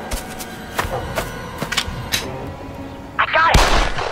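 A video-game headshot, heard as several sharp gunshot cracks in a loose sequence, followed by a louder burst of noise near the end.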